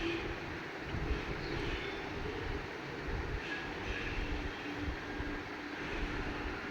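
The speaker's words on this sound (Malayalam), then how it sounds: "ഈത്തപ്പഴവും പഴവും നന്നായി അടിച്ചെടുക്കണം" Electric blender running continuously at steady speed, whirring dates and banana into a shake, loud and close with a dense, unbroken motor roar.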